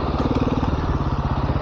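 Dirt bike crawling up a sideways rocky section of Rampart Range Trail 662 in Colorado, its engine chugging close and loud in a steady pulsing rhythm, with no talking.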